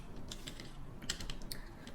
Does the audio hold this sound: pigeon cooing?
no